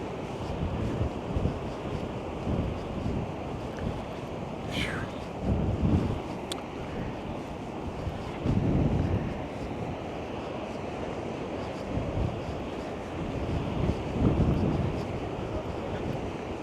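Wind gusts roar across an ocean beach in Astoria, Oregon, a steady broadband rush with surf beneath, swelling in several louder gusts over the whole stretch.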